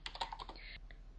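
Quick computer keyboard typing of commands for the Aardwolf MUD text game: a brief burst of close, crisp key clicks, then a short pause and one last tap, quiet and with no talk.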